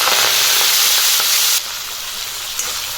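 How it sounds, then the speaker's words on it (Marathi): Cumin, mustard seeds and fenugreek leaves frying in hot oil, giving a loud, dense, close crackling sizzle that eases slightly partway through and keeps hissing steadily to the end. "तेल गरम झालं, त्यामध्ये आपण जिरे मोहरी टाकून घेऊ आणि त्यामध्ये आपण मेथीची भाजी टाकू।"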